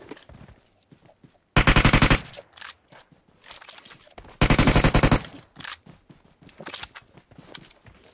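Two long, loud bursts of rapid machine gun fire in the PUBG Mobile shooter, each lasting well under a second, with quieter clicks and footstep-like shuffles between them.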